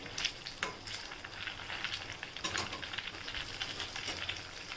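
Potato-stuffed bread rolls fry in hot oil, giving a steady, soft crackling sizzle with scattered pops throughout, fairly quiet and with no voices over it.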